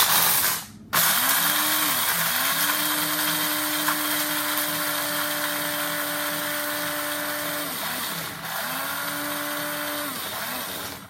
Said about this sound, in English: So I'm gonna go ahead and grind these beans.